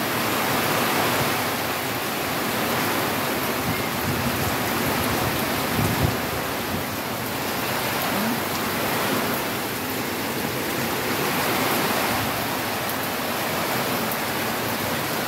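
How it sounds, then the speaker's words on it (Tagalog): Heavy typhoon rain pours down in a steady, loud roar, a dense wash of noise with no breaks. "Ang lakas ng ulan."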